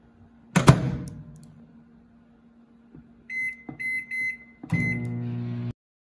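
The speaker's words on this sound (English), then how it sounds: "pop it in the microwave, put it in for another minute" A door thumps shut, then a microwave hums steadily, followed by a few keypad beeps and a louder whirring hum as it starts.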